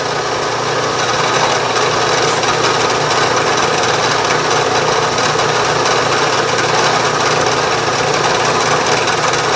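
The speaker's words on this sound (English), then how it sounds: "Just a little finishing work here on the project as I chamfer the edges" A power tool chamfers the metal edges of a horizontal steam engine part, giving a loud, close, unbroken grinding whir that holds steady throughout.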